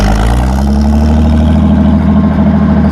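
Loud, steady idle of a car engine running without a muffler, a deep throaty rumble with an even lumpy pulse, close up and alone with no voices.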